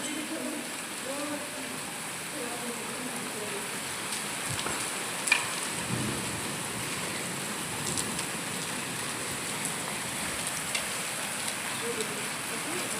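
Heavy rain mixed with large hailstones pours down in a dense, steady hiss of impacts, with a few sharper knocks standing out and a faint voice now and then beneath the downpour.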